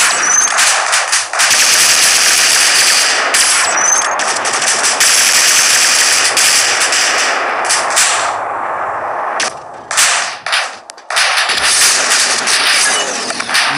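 Automatic gunfire in the mobile shooter Infinity Ops, loud rapid bursts of machine-gun fire rattling almost continuously, with brief gaps between volleys and no speech.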